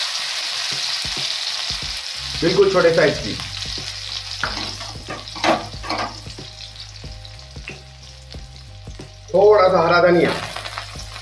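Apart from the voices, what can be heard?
cumin tempering sizzling in hot oil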